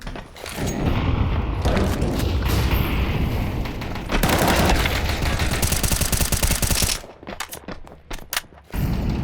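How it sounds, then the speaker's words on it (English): Loud gunfire and grenade blasts from a match of a competitive tactical shooter on the Nuke map, with rapid shots and booming bursts that are dense and sustained before thinning into scattered hits at the end. "the last guy was throwing nades"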